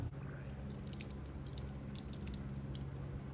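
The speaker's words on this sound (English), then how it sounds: "Dripping water right there." Water drips steadily from a leak on an adult go kart engine, a soft continuous trickle with fine spattering close by, steady level throughout.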